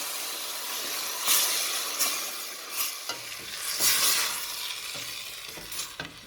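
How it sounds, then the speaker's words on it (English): Garlic fries in a pan, a steady soft sizzle broken by several louder bursts of stirring and scraping as it is moved around, close and without talk. "this just stays in here now, the garlic, for a minute or so until it nicely releases its aroma"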